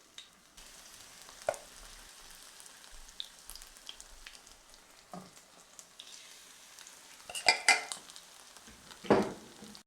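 Battered chicken pieces frying in hot oil, a quiet steady sizzle running under scattered clinks of utensils and a couple of louder knocks near the end.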